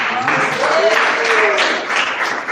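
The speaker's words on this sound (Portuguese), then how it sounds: "Vamos receber o pastor Lucas com palmas" Applause from a congregation fills the room, steady dense clapping throughout with voices rising over it.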